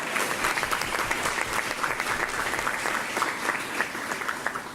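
Steady, dense applause from an audience at a Board of Education meeting honoring a high school boys golf team's sectional championship, sustained and even throughout.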